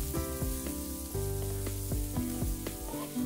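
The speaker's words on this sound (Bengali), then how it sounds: "জিরা ভালোভাবে ভাজার পরে দেব 2টো পেঁয়াজ কুচি। পেঁয়াজ 2-3 মিনিট বাদামি করে ভেজে নেব।" Chopped onions frying in oil with cumin seeds for a Bengali fish curry with taro, a steady close sizzle over a musical hum, with no talk.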